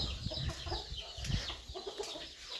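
A chicken clucks in short, scattered calls close by, mixed with rustling and background noise outdoors, with no talking.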